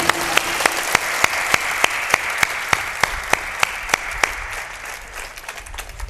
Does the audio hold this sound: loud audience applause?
yes